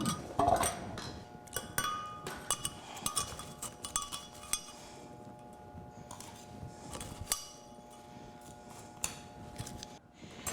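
Crushed ice for a Kentucky Derby cocktail is scraped and scooped out of a blender into a glass: scattered clinks, scrapes and taps come in irregular bursts, close and fairly quiet, with brief pauses between.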